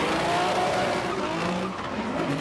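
A drift car runs at full throttle at Okuibuki Motorpark in Shiga during a qualifying run, its tyres skidding in a continuous loud squeal over a roaring engine, heard steadily from trackside.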